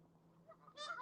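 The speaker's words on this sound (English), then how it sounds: "I'm about to get murdered by some of these geese." Geese honk loudly during nesting season by the water in Ohio, with a short sharp call rising out of a low background hum.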